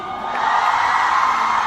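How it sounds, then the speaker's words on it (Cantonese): A large audience at a Hong Kong fan event whoops, cheers and screams together in a loud, sustained roar that swells and holds throughout. "尖叫鼓勵一下，可以嗎？"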